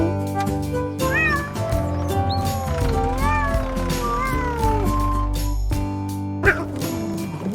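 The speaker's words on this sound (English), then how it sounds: "Cat, meow meow." A cat meows several times in rising and falling calls, loud and close, over a steady musical background.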